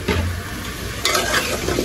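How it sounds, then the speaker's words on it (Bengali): Onion and garlic fry in a pan over low heat for a rohu fish curry with eggplant and potato, a steady sizzle with stirring scrapes and a sharper burst partway through, no talk. "এই যে পেঁয়াজ রসুন ভাজা ভাজা করে নিতেছি"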